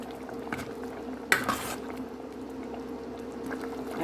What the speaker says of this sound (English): And I stir together.